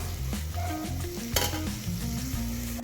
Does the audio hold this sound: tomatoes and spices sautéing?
yes